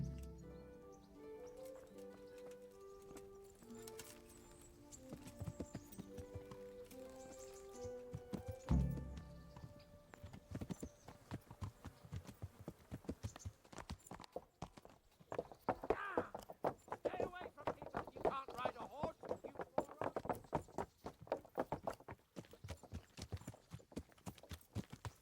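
Horse hooves clip-clop at a steady riding pace in the medieval game Kingdom Come: Deliverance, over background music at first, with voices talking now and then alongside the rhythmic hoofbeats.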